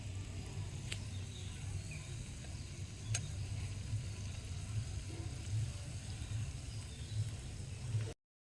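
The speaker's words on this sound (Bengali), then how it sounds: "এবার বড়াগুলো একটু ভাজা হোক" Drumstick flower fritters fry steadily in hot oil, a continuous close sizzle with soft bubbling crackle and a few sharp ticks, no voices.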